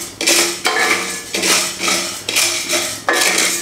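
Rice flour stirred in a pan while roasting, a spoon or spatula scraping and clanking against the metal in repeated loud strokes about every half second or so, close up with no talk.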